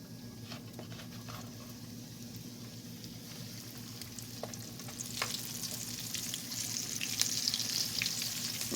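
Squirrel pieces frying in hot lard, a steady low sizzle and crackle that builds slightly louder toward the end, with a few soft clicks and knocks from the pan, no talking.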